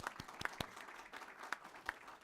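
An audience at an education meeting claps, a thin, sparse patter of individual hand claps that sounds faint and somewhat distant, lasting only a couple of seconds.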